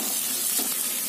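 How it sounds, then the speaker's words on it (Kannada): Capsicum and onion frying in a pan, a steady close sizzle and hiss, brief and uninterrupted. "ನೀವು ಕ್ಯಾಪ್ಸಿಕಂ ನ ತುಂಬಾ ಫ್ರೈ ಮಾಡೋ ಅವಶ್ಯಕತೆ ಇಲ್ಲ"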